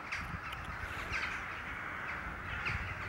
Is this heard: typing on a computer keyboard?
no